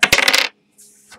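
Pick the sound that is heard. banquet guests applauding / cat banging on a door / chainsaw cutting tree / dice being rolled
dice being rolled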